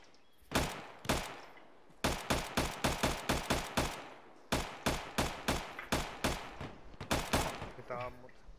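Gunfire in the military game Arma 3 cracks out in rapid bursts of sharp, evenly spaced shots, some single and some in quick strings, with a voice briefly heard at the very end.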